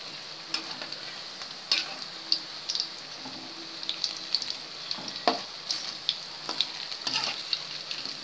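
Onion bondas fry in hot oil with a steady, fairly quiet bubbling sizzle, broken by sharp ladle taps and scrapes at irregular intervals as they are turned over, no talk.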